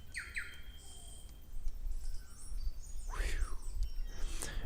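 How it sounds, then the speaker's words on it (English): New Zealand fantails chirp in short, high, sweeping calls at a moderate distance, several bursts scattered over a soft outdoor background murmur. "There's the fantails again."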